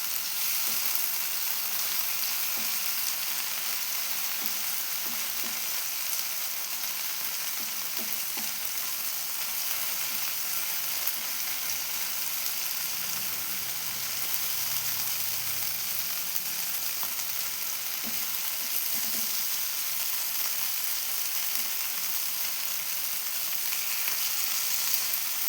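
Masala-coated mackerel fries in a pan with a steady, close crackling sizzle that holds at an even level throughout, with occasional faint clinks of handling.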